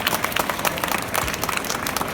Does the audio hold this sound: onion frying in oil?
no